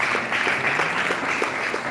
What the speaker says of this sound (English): Please let's applaud her.